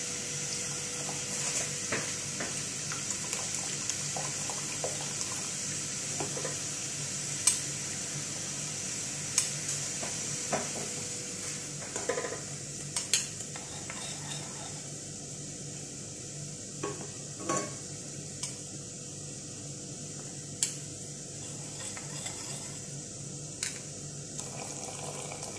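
Mixed vegetables with fish bagoong simmer in a pot, giving a steady, low bubbling hiss, with occasional clinks and scrapes of stirring and small splashes mixed in throughout.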